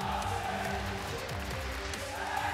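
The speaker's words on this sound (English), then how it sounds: "The crowd is getting loud, the chants are in" A dense arena crowd at a Call of Duty esports match, CWL Birmingham Open, Echo Fox versus OpTic Gaming, roaring and chanting in a steady, loud wall of voices with no pauses.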